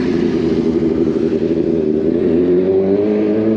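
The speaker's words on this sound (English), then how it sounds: "let me let the bike ride by" A motorbike rides past on a town street, its engine a loud, steady droning growl that rises slightly in pitch as it passes close by.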